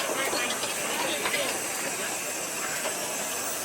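A single-cylinder Burrell steam traction engine replica runs at a rural steam parade, giving a steady, loud hiss of steam that fills the whole stretch with little change, and no voices are heard.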